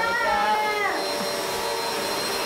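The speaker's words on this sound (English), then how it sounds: "I've now discovered she can hoover" A household vacuum cleaner hoovering with a steady whining drone, pitch sliding briefly at the start, with faint voices in the background.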